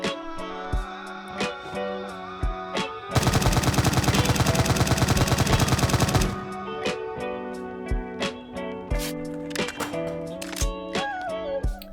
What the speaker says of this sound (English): this is the ES36 based on the real-life G36C, and this is the gun that's coming out in Operation Black Dawn